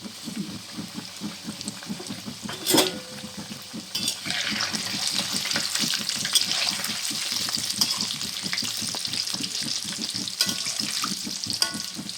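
Steady crackling sizzle of cauliflower-peanut samosas deep frying in hot oil, close and continuous, with a brief louder clatter early on.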